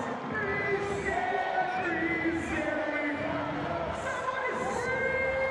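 Cricket crowd at a match featuring Chris Gayle, a dense continuous roar of cheering and shouting from a large stadium audience, with a commentator's voice running over it.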